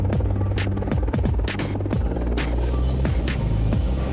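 Apache military helicopter drones loudly and continuously, a deep rotor throb and low hum with a rhythmic pulsing beat, steady and close, no voices.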